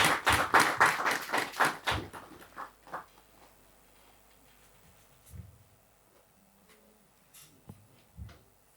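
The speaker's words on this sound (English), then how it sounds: "A round of applause for Fapimpong." Applause at a men's stress management gathering before a poetry recitation starts as a quick, loud burst of rhythmic claps, then fades after a couple of seconds into a few scattered taps in a quiet room.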